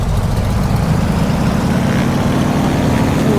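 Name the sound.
Waco biplane engine at full throttle in Microsoft Flight Simulator 2020 (video game)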